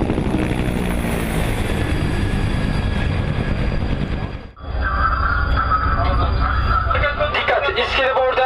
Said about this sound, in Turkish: Terörist helikopteri Oruç Reis'e yaklaşmak istedi ancak buna izin verilmedi.